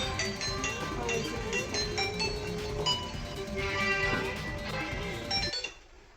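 A phone rings steadily in a busy room with clinking and clatter, the ringing continuing for several seconds before cutting off abruptly near the end.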